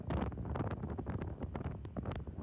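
Wind buffeting the microphone during an early-morning motorbike ride through Phuket, heard as loud, irregular low gusts and rumbling thumps that surge and fade across a few seconds, with no talk.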